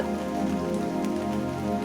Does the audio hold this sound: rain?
yes